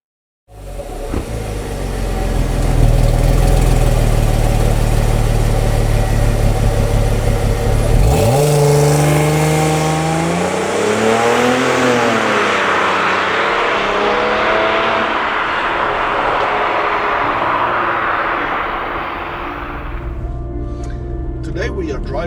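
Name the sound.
2002 Audi A4 2.4 V6 engine idling and revving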